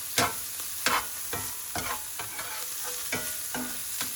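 Butter melting and sizzling in a pan for a morel cook-up, a steady frying hiss broken by regular scrapes and clinks of stirring, close and moderately loud, with no voices.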